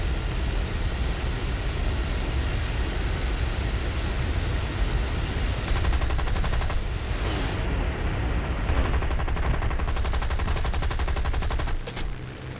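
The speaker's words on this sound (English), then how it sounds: "not even a chance to evade his frickin' cannons" Rapid cannon fire from aircraft in the War Thunder video game rattles in dense bursts over a constant loud engine roar, with sharper volleys partway through and no talking.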